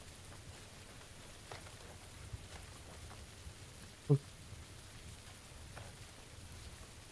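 Light, steady in-game rain in PUBG falls softly in the background, quiet and continuous, with a single faint tap or knock midway.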